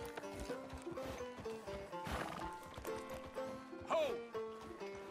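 Horse hooves clip-clopping in Red Dead Redemption 2, a steady rhythmic trot close by with a whinny near the end, over background game music and brief speech.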